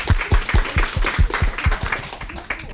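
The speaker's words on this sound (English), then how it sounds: "Let's give applause." A small seminar audience claps at the close of a session, a short burst of brisk, fairly close hand claps with no talk.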